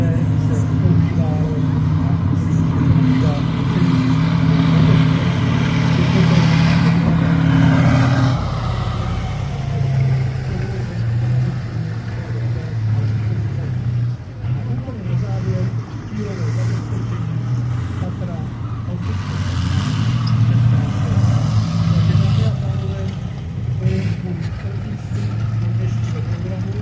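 A military recovery vehicle built on a BVP chassis drives past at the Bahna 2017 show, its heavy engine rumbling loudly and revving, with a public-address voice talking over the noise.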